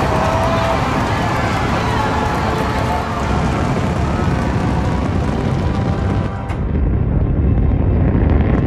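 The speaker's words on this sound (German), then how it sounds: "Dabei handelt es sich um den Start einer weiteren Falcon 9 Rakete." Falcon 9 rocket launch: a loud continuous roaring rumble, broad and unbroken, with a brief dip before the thunderous noise resumes.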